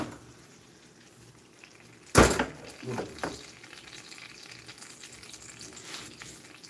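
Food hitting a hot pan with one loud burst of sizzling, a couple of smaller crackles after it, then a softer frying hiss that keeps going with no talking.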